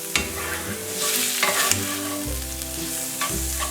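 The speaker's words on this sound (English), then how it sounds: "Let those be frying along with everything else." Ratatouille vegetables fry loudly in a hot pan, a dense steady sizzle with occasional scraping stirs and clinks of a utensil.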